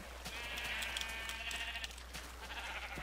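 Sheep bleat repeatedly inside a sheep farm in Minecraft, several overlapping wavering cries close by over a faint steady background hum, with no talking.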